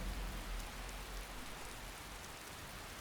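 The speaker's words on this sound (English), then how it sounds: "And when will it ever stop raining?" Steady rain falls in the video game Skyrim, a soft, even hiss of pattering drops with a low rumble beneath, quiet and unbroken with no voices.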